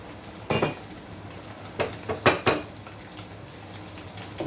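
A spoon stirs a spicy beef tomato sauce in a pot, giving a few distinct metallic clinks and scrapes against the pot in short bursts over a quiet kitchen background, with no talking.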